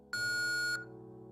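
Phone beep in the VR game Home Sweet Home: a single steady electronic tone lasting about two-thirds of a second, clean and sustained, then cutting off to a faint background hum.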